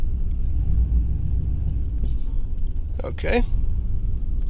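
A third-generation Camaro idling in gear with the brake released and no throttle, a low steady engine rumble throughout, with a short spoken word partway through.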